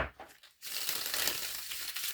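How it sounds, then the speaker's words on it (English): Tarot cards being shuffled, with a brief rustle followed by a longer, dense papery riffling close to the microphone. "I will shuffle the cards until a card basically makes itself known"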